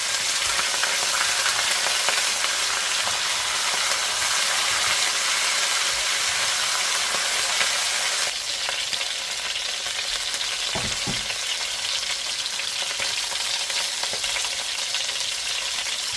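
Vegetables for chicken afritada sizzle and fry in a hot pan, a steady loud hiss that holds throughout, easing slightly partway through, with brief low knocks of stirring.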